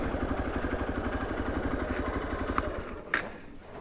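A Hero Xpulse 200 motorbike idles while being parked: a steady, close, thumping engine pulse that cuts out near the end, followed by a couple of sharp clicks.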